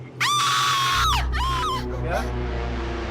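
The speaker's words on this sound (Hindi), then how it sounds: "जरा गौर से सुने इसकी चीख" A woman lets out piercing, high screams in several bursts over a low steady hum, loud and close.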